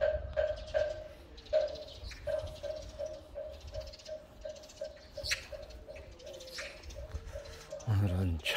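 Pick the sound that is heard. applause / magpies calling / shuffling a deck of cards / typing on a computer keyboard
magpies calling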